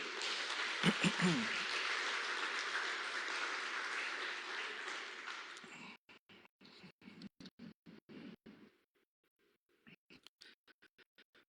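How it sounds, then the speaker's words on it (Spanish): A church congregation applauds at a Sunday service, with dense, loud sustained clapping for about six seconds that then breaks into scattered bursts and tapers off to a few last claps. "Dale un gran aplauso al Señor."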